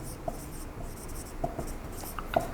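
A pen scratches out a heading by hand, giving a few soft strokes and taps spaced irregularly over a quiet room background.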